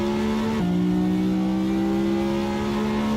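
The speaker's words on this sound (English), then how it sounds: "Love the sound of the engine." A Ferrari engine in the racing game Assetto Corsa sings loud and close with a smooth, sustained tone, dropping in pitch with a quick gear shift early on, then holding steady.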